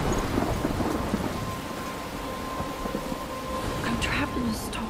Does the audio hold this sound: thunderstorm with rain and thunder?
yes